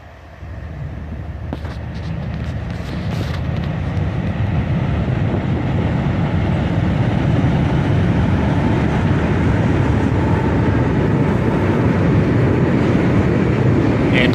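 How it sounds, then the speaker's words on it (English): A CSX manifest freight train pulled by three locomotives rumbles across a bridge, a steady, loud roar of wheels and cars that builds and holds for the whole stretch, with no voices. "A 3-locomotive CSX manifest train."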